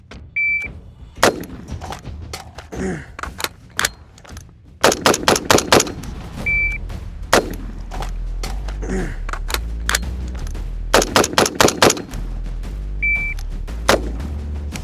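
Rapid bursts and single shots from a SCAR-H rifle, loud and close, firing in quick strings with brief pauses between volleys, alone without talk.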